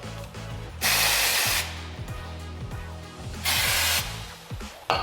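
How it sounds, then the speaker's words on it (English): Aerosol brake cleaner hissing onto the brakes of an Audi TT MK3 in two loud close bursts, with a low mechanical hum running underneath. "we just went and got some brake cleaner, some gloves, and we're going to clean this up."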